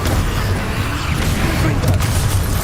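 Confringo spell explosions in Hogwarts Legacy, dense booming blasts and crackling impacts packed together, loud and close throughout.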